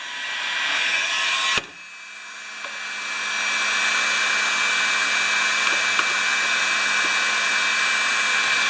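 A heat gun blows steadily on a warped Briggs & Stratton Quantum primer assembly, a loud continuous airy roar with a brief click and dip near the start before the hum settles back to a constant level.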